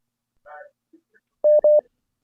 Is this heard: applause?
no